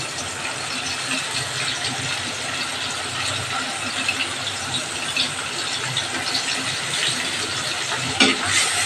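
Ground cumin, coriander and red chilli paste frying steadily in a pan, a dense continuous sizzle with faint stirring scrapes, close and fairly loud, no talking.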